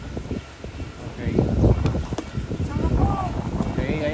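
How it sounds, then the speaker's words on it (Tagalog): Strong wind buffeting the microphone on a boat ride near Mount Bacolod, a steady broadband roar with gusts throughout, heard under a voice speaking Filipino. "Napakalakas ng hangin."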